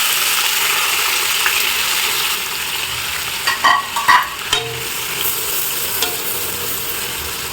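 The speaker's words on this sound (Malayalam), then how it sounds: "ഈ സെയിം ഓയിലിലേക്ക് തന്നെ നമുക്ക് സവോള ഇട്ട് കൊടുക്കാം കേട്ടോ" Sliced onions frying in oil for beef biryani give a loud, continuous hissing sizzle, broken midway by a short cluster of spatula scrapes and taps against the pan.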